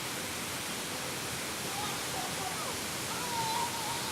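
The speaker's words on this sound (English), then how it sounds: "This waterfall's really nice." A waterfall in Munduk, North Bali pours with a broad, steady rushing wash heard from a distance, moderately faint and unchanging, with a faint voice or whistle-like tone briefly over it.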